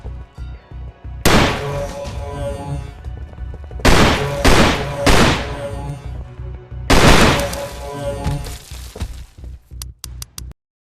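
Double barrel shotgun blasts in the Sport Mode VR game, several heavy, loud booms in pairs and singles with quieter clicks and thumps between them.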